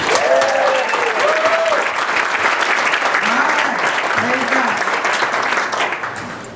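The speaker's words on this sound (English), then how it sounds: "A really big hand clap." Church congregation clapping hands in praise after a hymn, a steady, full wash of applause lasting several seconds, with a few voices calling out over it before it tapers off.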